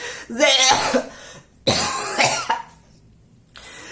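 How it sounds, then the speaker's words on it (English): Two rough, close coughing fits, each a cluster of harsh bursts, separated by a short pause, with a breathy rasp between. "Grandma coughed so many times."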